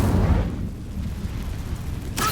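Incendio fire spell cast in Hogwarts Legacy: a broad, roaring whoosh of flame sustains for about two seconds and ends in a sharp flare, with no talking.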